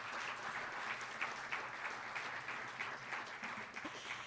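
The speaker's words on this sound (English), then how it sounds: "You can applaud for that." A sports leadership lecture audience applauds steadily and quietly at a distance, many hands clapping evenly throughout with no voices on top.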